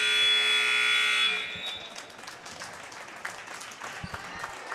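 Basketball game clock buzzer sounding at the end of a quarter in a college gym, Saints vs North Iowa, a loud sustained horn lasting over a second, then fading into crowd noise and scattered applause.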